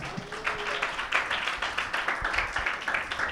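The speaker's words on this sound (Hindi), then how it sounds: "यीशु मसीह के लिए तालियां बजाएं।" A church congregation claps together during a Sunday service, a soft, steady patter of many hands at moderate distance with no talk over it.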